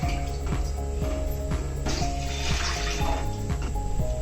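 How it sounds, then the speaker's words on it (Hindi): Roughly a liter of water poured into a wok on a gas stove to boil for noodles, a continuous splashing pour close by, with some rhythmic thuds and clinks in the background. "पानी लगभग 1 लीटर डालेंगे।"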